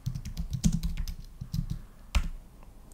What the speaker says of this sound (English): we can do this by typing the command show platform